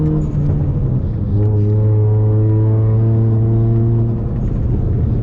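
A loud, close Ford Mustang engine with an automatic gearbox drones low, then climbs steadily in pitch under throttle toward a shift at 4,000 rpm before easing, with a deep throaty rumble throughout.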